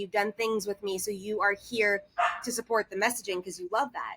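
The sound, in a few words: neighbor's dog barking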